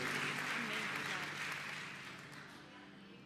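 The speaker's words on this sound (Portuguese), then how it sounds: "Aplauda o Senhor mais uma vez." A congregation applauds at a Sunday morning church service, full and sustained clapping that gradually thins and fades toward the end, heard at moderate distance without talk over it.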